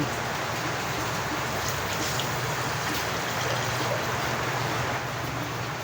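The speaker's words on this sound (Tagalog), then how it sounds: "Yan, pwede ko na siya dagdagan ng tubig." Water poured into a cooking pot, a steady hissing splash that runs on evenly and fairly quietly, with no voices.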